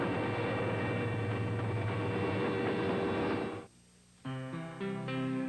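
A train passes a railroad crossing with a loud, steady droning roar and sustained horn-like tones, then drops out abruptly before tonal sounds return near the end.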